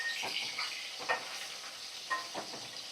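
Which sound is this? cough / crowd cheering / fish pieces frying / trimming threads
fish pieces frying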